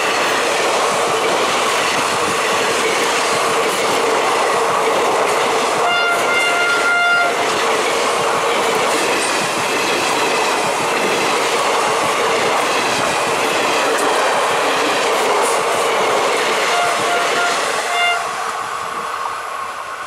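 The Kolkata–Nangaldam Gurumukhi superfast express rushes past on a diverted route, a loud continuous roar of wheels and rattling carriages with rhythmic clatter and a brief horn, close by throughout.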